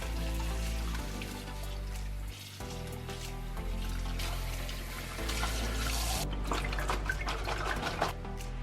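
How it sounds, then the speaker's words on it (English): Running tap water pours steadily over vegetables being washed in a kitchen sink, a close, continuous splashing and trickling with small drips and shifts as the produce is handled, no talking. "Wash all the veggies."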